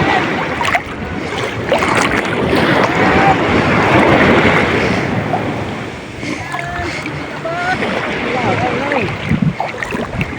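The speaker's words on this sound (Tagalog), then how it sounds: "Medyo malakas yung alon." Strong sea waves surge and wash loudly around a small fishing boat at sea, with heavy wind buffeting and voices talking over the steady roar.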